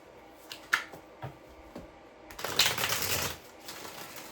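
Tarot cards are handled with a few sharp snaps and taps, then shuffled in a crisp, riffling burst, close and clear in a quiet room.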